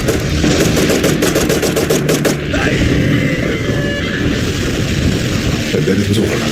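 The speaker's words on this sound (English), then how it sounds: "the street was filled with magic and gunfire" Gunfire mixed with magical blasts in a street battle: dense, continuous crackling bursts and booms that fill the scene loudly from start to finish, with an especially sharp volley in the opening seconds.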